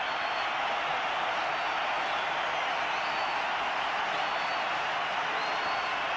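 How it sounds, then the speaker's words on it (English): A crowd cheers at the 2004 India vs Pakistan one-day international cricket match in Karachi, a steady, distant stadium roar that stays even and sustained throughout. "Loud cheer from everyone"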